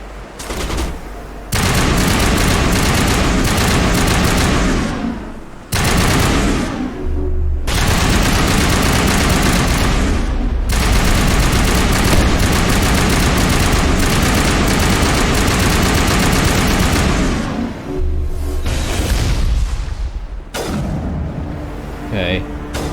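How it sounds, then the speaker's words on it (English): Sniper fire in the video game Mass Effect amid heavy combat noise: loud, near-constant volleys and booms with a few short breaks, while a voice talks over the din. "we just got sniped pretty bad there"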